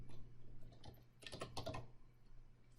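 Typing on a computer keyboard, heard as soft, close clusters of keystrokes tapping in short irregular bursts over a low steady hum.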